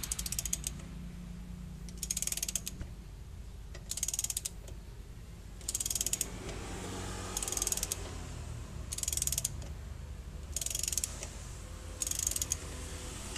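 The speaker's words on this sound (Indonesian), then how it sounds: "Mengencangkan baut ini terasa jauh lebih enteng" A bolt being tightened on the rear axle of a Toyota Land Cruiser FJ40 during a wheel bearing and axle seal job: repeated ratchet clicking bursts in a steady rhythm, about eight strokes, close and moderately quiet.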